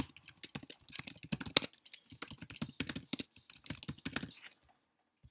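Rapid typing on a computer keyboard while filling in an eBay registration form: a close, uneven run of clicky keystrokes for about four and a half seconds, then silence.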